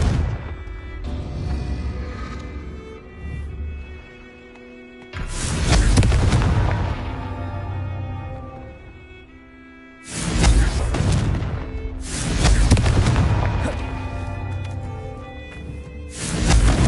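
Two big booming blasts of the Confringo fire spell in Hogwarts Legacy, each bursting loud and sudden then rumbling off, with a lighter crackle of impacts between them and no talking.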